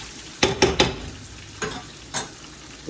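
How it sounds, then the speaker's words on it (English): Pork chop, tomatoes, corn and okra sizzle in a frying pan while a utensil stirs, giving a quick cluster of three scraping knocks followed by two softer, spaced strokes over a steady sizzle. "Stir this a little bit. Everything incorporated."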